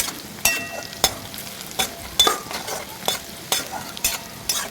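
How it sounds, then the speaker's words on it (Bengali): Chopped green chillies frying in a pan for a potato and pea curry, a steady sizzle broken by about eight regular, sharp scrapes of a spoon stirring through the pan. "এবার আমি এই লঙ্কা কুচিগুলো দিয়ে দিচ্ছি। এটাকে নাড়িয়ে নেবো ভালোভাবে।"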